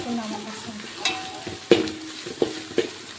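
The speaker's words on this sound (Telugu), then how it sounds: "అల్లం ఎల్లిగడ్డ పేస్ట్ వేసుకొని మిక్స్ చేసుకుందాం." Ginger garlic paste is being stirred in a frying pan with turmeric, giving a soft sizzle under a few sharp scraping clinks of a spoon against the pan.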